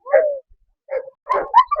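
Alabai puppies at a dog market in Fergana, a few close yelping barks and whimpering yips in quick bursts separated by short silences.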